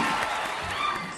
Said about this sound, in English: he still drew thunderous applause